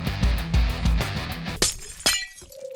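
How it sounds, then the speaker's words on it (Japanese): Glass windows shatter in Minecraft's RLCraft modpack as a summoner enemy bursts through them in the Lost City. Two quick breaking crashes follow a few muffled footstep thumps, and nobody speaks. "ガラスが割れる音がしたぞ。"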